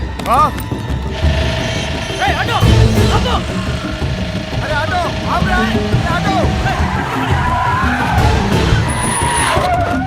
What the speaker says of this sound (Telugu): ఆటో వెళ్ళిపోతుంది